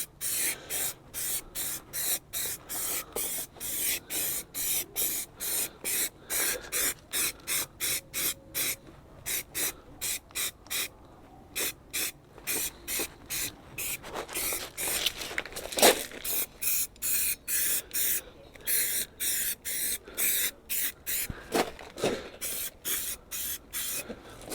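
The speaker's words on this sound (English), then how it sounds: "It is black, so it shouldn't need painting once this has been sprayed on." Black underbody coating sprays from an aerosol can onto a Fiat 500C door and rear beam, in a long run of short, evenly paced hissing bursts with brief gaps, close up and fairly loud.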